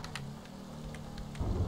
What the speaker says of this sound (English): This is actually some really good rain and lightning effects.